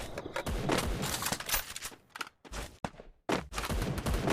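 Rapid gunfire from the Free Fire video game, loud dense bursts and volleys with short gaps of silence between strings of shots.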